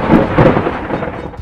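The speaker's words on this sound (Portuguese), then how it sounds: "O céu ribombou" Thunder rumbles as a sound effect in a told indigenous legend, a loud, deep rolling roar that swells at the start and trails off into a lower rumble with a hint of rain beneath.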